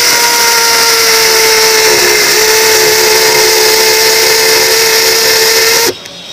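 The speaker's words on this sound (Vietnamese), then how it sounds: "Đây là chế độ vặn vít có lực búa nó đập đó ha." A Makita impact driver runs in hammer screwdriving mode with a loud, steady high-pitched whine and rapid hammering buzz close by, then cuts off abruptly near the end.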